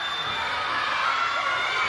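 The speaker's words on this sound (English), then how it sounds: "The crowd here in Leonard, Texas. Oh, they're absolutely on fire." Wrestling fans at an event in Leonard, Texas, shouting and cheering in a continuous bright roar, with children's voices audible in the mix.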